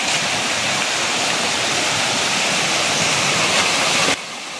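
Limestone waterfall in Tibiao, Antique, Philippines, its steady roaring rush of falling water loud and constant from close by, with no voices, before the level drops abruptly near the end.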